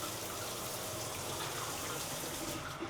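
Shower water running steadily in a hotel bathroom at a Sandals resort butler suite, a continuous broadband spray and splash filling the whole clip with no talk.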